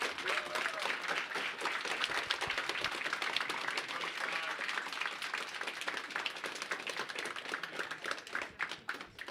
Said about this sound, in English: a big round of applause to what Scott is doing with his team at ESSE